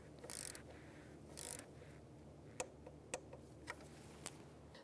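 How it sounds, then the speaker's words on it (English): A 10mm socket wrench torques a bolt on a 1999-2004 Jeep Grand Cherokee engine, giving a few quiet ratcheting clicks and soft metallic ticks spaced irregularly, faint and close, with light rustling before them. "10mm socket, and just torque it."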